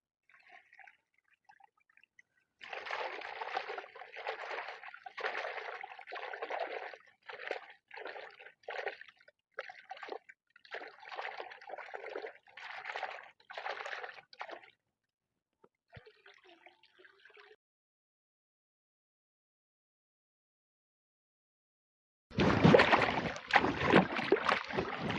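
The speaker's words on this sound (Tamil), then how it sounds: "இப்போ வெஜிடபிள் எல்லாம் கழுவி எடுத்துக்கலாம்." Vegetables for vegetable biryani are washed in water, giving bursts of sloshing and splashing in an uneven rhythm, then a quiet pause before a louder final splash.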